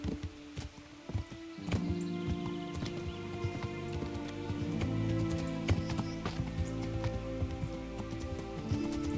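Hooves clip-clop steadily as a horse walks in the medieval role-playing game Kingdom Come: Deliverance, an even rhythm of clear knocks over ambient outdoor background and layered game music.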